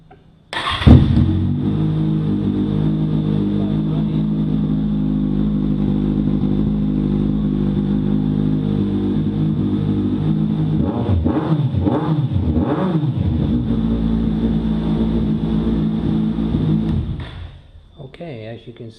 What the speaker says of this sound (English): as you can see, the bike starts and runs.